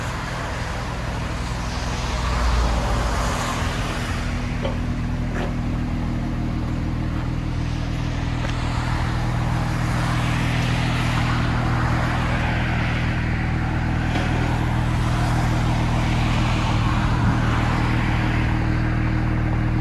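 A 2020 Mercedes C43 AMG Bi Turbo on its stock exhaust, a steady deep engine drone held for about twenty seconds with slow swells in loudness, close and continuous, no talk over it.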